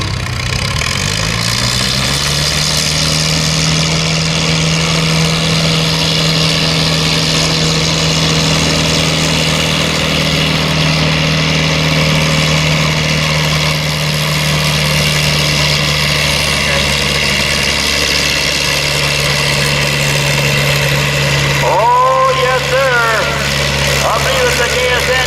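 A Minneapolis Moline GB gas tractor in an 8000 lb farm stock tractor pull holds a loud, steady engine drone close by for the whole stretch, with an announcer talking over it.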